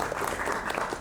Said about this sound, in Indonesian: Oke, tepuk tangan dulu untuk Aziz.